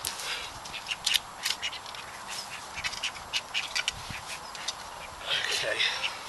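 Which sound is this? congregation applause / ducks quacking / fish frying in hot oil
ducks quacking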